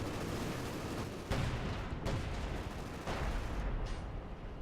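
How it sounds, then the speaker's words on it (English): Two artillery pieces fire in a Company of Heroes 2 battle, giving a few dull, distant booms over a steady rumble of gunfire and explosions. "2 artillery pieces from Anthrax now."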